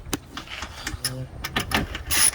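Ratchet wrench clicking as it tightens a 10mm bolt on the starter of a Lexus ES330, a series of short, close, irregular metallic ticks with small pauses, a faint voice now and then underneath.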